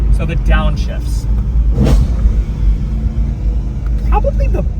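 A 2011 BMW E92 M3 GTS V8 engine downshifting, with a deep rumbling idle broken by sharp blips of revs, one near the middle and another toward the end, heard from inside the car with voices speaking.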